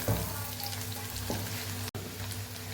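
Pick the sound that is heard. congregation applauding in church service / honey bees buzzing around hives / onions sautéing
onions sautéing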